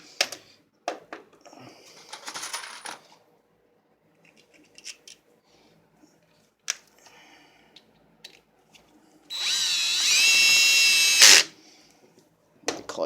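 Cordless drill driver with a loose clutch setting driving screws in a shop, a short quiet whir near the start, then one loud sustained high run of about two seconds, with scattered clicks and handling knocks between.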